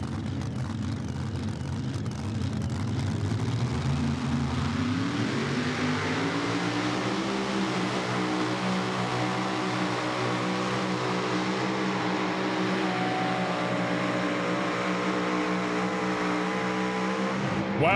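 Limited pro stock pulling tractors roar loud and continuous at a tractor pull, engine pitch climbing steadily as a run builds, with a dense mechanical drone throughout.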